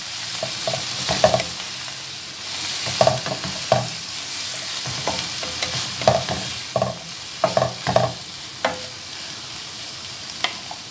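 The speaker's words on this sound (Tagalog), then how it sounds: "Natin ilagay yung tahong natin. Isa lang ulit, haluhaluin." Mussels being stirred and sautéed in a pan for a ketchup-based dish, with a steady background sizzle broken by repeated scraping and clattering strokes of the stirring utensil, close and fairly loud.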